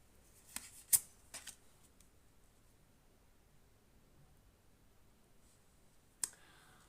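A few soft clicks and slaps of tarot cards being laid down near the start, then a long hush and one more card snap near the end.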